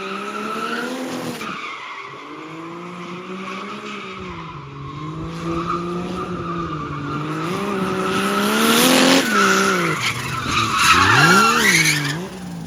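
A BMW E46 drift car spins its tires during a warm-up, with loud continuous squealing over a rising engine drone that builds toward the end.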